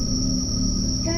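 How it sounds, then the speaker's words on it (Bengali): Crickets chirp at night in a quiet rural setting. Their shrill, continuous trill drones steadily under a low background hum, with no pauses over the short stretch. "ঝিঝি পোকার ডাক"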